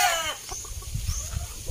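A rooster, a handsome farm cockerel, gives a brief crowing call at the start, then scattered clucks and movement sounds follow close by.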